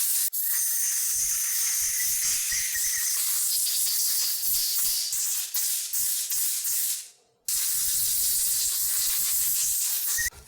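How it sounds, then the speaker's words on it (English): Contact cleaner sprayed around the spark plug area of a Jeep 4.7 V8 engine, a loud steady hiss lasting about seven seconds, a brief pause, then another sustained burst close by. "to use some contact spray and clean it off a little bit."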